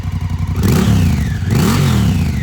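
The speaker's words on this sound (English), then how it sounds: "And here's an exhaust note as well." A car engine with its stock exhaust revs twice while sitting in neutral, each blip rising sharply in pitch and falling back to a loud, steady idle rumble, close and prominent with no talking.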